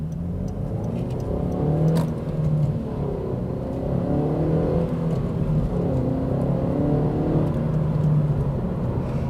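A 2012 Honda Civic Si four-cylinder engine pulls steadily from inside the car, a smooth mid-pitched drone rising and falling gently with throttle, loud and continuous with no voices.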